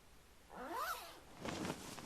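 A zipper sound effect in the Lil' Guardsman video game, a quick rising-and-falling zip followed by a second rougher rasp, faint and close with no talking.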